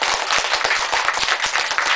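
A crowd gives a dense round of applause, many hands clapping quickly and continuously, loud and close throughout.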